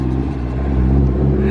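A boosted all-wheel-drive Honda Civic wagon, right-hand drive with a new exhaust system, drives past with a steady, loud engine drone and low exhaust rumble throughout, while someone talks over it.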